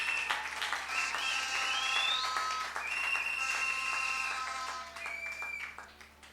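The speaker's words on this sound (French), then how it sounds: "Acclamons très fort le Seigneur." A church congregation applauding during a sermon, a dense continuous clapping that holds steady for several seconds and then begins to fade, with some voices and tones mixed in.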